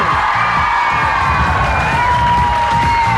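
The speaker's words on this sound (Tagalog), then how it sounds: "Palakpak na may kasamang hiyaw" Studio audience on a Filipino game show cheering and shouting loudly, whoops and yells rising in a dense, continuous roar with clapping underneath throughout.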